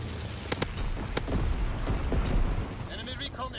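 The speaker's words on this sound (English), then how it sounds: "Dropping incendiary." Incendiary bombing run explosions in Call of Duty WWII, a few sharp blasts followed by rumbling booms and crackling bursts, fairly quiet overall, with a brief radio-like voice near the end.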